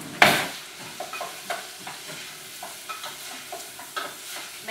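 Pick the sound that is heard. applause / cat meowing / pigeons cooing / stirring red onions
stirring red onions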